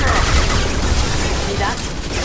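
Sustained gunfire from a firefight in the video game Mass Effect 2, a dense, loud barrage of shots and impacts with game voices mixed in.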